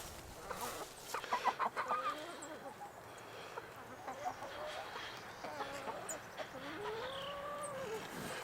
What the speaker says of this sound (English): So we got 20 chickens.